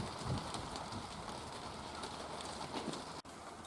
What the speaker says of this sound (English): Yeah, I'm really pleased with the rain.